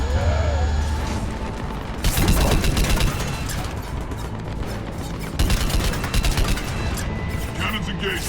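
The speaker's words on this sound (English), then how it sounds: "Cannons engaged. Head to the blast door." Heavy cannon fire in the Mass Effect 3 video game, with loud booming volleys that swell around the two- and five-second marks over a constant dense roar of battle noise.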